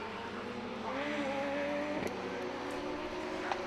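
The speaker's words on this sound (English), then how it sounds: "Cars are rolling for another formation lap for the Radical Cup UK." Radical race cars roll on a formation lap at Brands Hatch GP during a Radical Cup UK race, giving a steady, moderately distant engine drone with a brief rising whine partway through.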